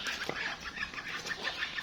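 Chickens on a farm cluck faintly in the distance, soft scattered calls over a low, steady background hiss.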